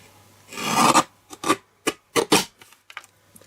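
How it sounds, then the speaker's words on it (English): A paper trimmer slices through a card stock border in a series of short rasping strokes, one longer cut followed by several quick bursts, close and fairly quiet against a silent background. "Bring in my trimmer again and trim it."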